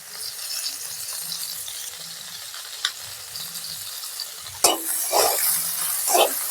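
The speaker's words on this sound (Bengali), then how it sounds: "এবার করলাটা আমি কড়াই দিয়ে দিচ্ছি।" Bitter gourd frying in a wok with salt, a steady sizzle under occasional stirring scrapes and clinks of a spatula, close and moderately loud.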